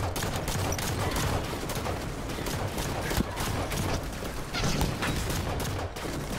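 Sustained automatic gunfire from an enemy Phantom dropship in the video game Halo, dense rapid bursts filling the whole stretch at a steady loud level, with no voices over it.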